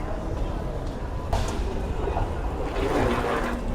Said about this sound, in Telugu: This is U-Bahn. Yeah, under ground trains.